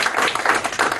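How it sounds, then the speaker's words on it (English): Loud, dense applause from an audience clapping for a woman, a steady wash of many hands with no gaps, heard alone. "Give this lady a round of applause"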